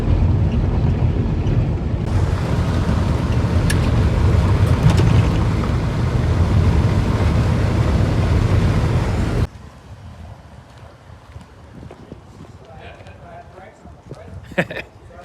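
Wind roars past an open car window as the car drives between the dump and the grocery store with a dog's head out in the breeze. A loud, steady rush lasts about nine seconds, then drops to quieter road and cabin noise.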